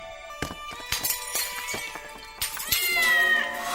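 A black cat meows and yowls loudly several times, mixed with sharp crashes and the tinkle of breaking glass.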